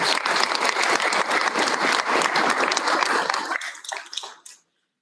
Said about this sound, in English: Definitely a round of applause for that for our teachers.